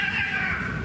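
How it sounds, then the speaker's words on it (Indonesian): A neighbour's cats squabble, a brief strained meow-like yowl heard close and fairly loud, lasting under a second. "kucing tetangga tengkar guys"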